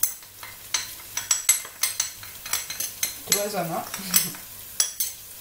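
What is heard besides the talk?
stirring spices together in a pan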